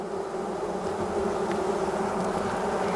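A dense, steady drone of many honeybees buzzing close by on a hive frame, continuous and loud, with no voices.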